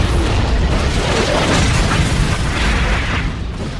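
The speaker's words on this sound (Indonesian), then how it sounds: "tiba-tiba terjadi ledakan susulan yang sangat dahsyat" A loud, sustained roaring blast of a film's massive secondary explosion, with dense rumbling that fills the whole clip, fading slightly near the end.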